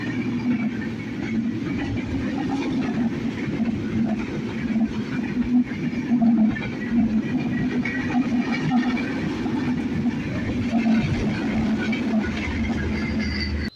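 A train runs along the railway line right beside a house, giving a loud, steady rolling rumble with a faint clickety-clack of wheels that holds throughout.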